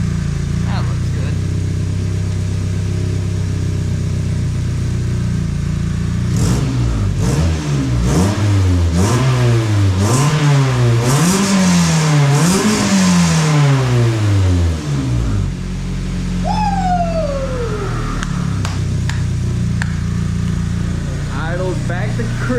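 A high-compression 1.8 NB Mazda Miata with a dual tip exhaust idles loudly and close, then revs repeatedly in rising and falling sweeps before settling back to idle, with a person speaking over it.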